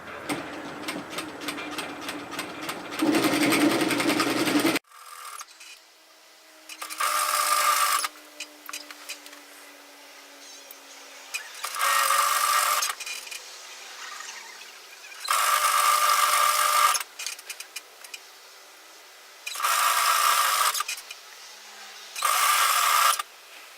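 A sewing machine runs a row of stitches along a dress seam in about six separate bursts, each a few seconds long, separated by quiet gaps, close and clear with no talking.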